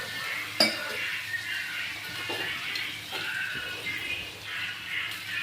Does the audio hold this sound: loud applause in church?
no